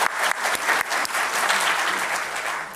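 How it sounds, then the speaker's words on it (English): Audience applause at a panel discussion on modern art and politics in Germany, a dense, steady burst of many hands clapping that fills the room loudly for a few seconds without any talk. "How about some applause for that one, huh?"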